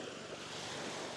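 Waves splashing and washing in a continuous, moderately faint wash, with some wind rumble against the microphone and no voices.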